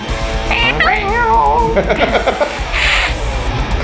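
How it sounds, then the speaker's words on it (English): Cats fighting, with rising, wavering meows and caterwauls filling most of the stretch, loud and close, while people talk over the yowls. "this is the kitty cat part. Cat fight."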